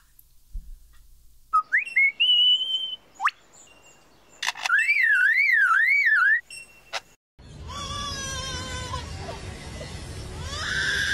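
A lyrebird mimics mechanical and electronic sounds with rising whistles and a rapid warbling, alarm-like trill, then gives a noisier burst of chirps and clicks, clear and fairly close.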